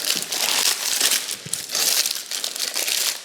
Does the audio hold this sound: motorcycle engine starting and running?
no